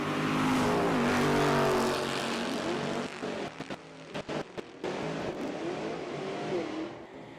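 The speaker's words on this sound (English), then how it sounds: "Left lane, Eric Daniels. The Dodge Durango Hellcat." A Dodge Durango Hellcat roars loudly at full throttle down a drag strip at Texas Motorplex, a sustained high-revving engine note with rising harmonics, then choppy bursts as the sound drops away.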